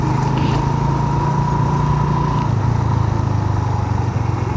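A motorcycle engine drones steadily as the rider passes along the left side of a toll plaza on the GT Road near Taxila, a close, continuous hum with a slight pitch drop midway.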